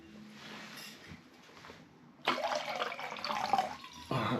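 Water pours and splashes into a mug at a camp in a Lake District bothy, a soft trickle first, then a louder, sustained gush after a brief pause, close by.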